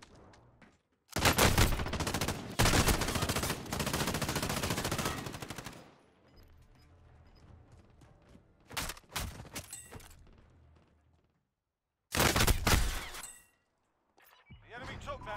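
Long, dense bursts of light machine gun fire from Call of Duty Warzone, loud and close. A sustained stream runs for several seconds, then quieter scattered shots follow, then another short heavy burst and a last sputter near the end.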